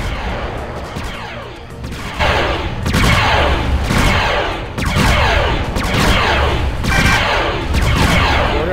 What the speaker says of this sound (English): More power means faster turret fire.